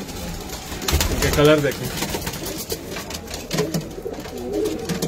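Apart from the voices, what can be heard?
pigeons cooing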